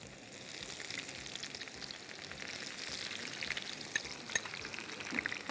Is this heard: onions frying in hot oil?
yes